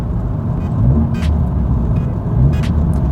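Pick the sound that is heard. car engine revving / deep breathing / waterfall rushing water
car engine revving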